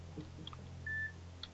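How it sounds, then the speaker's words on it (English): Single short electronic beep tone, clear and fairly loud against a faint low hum, with a few soft incidental clicks around it. "he's beeping me like crazy"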